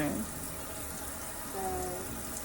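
Tap water running for washing a child's hair, a soft steady rush of flowing water, quiet and continuous with brief squeaky tones near the start.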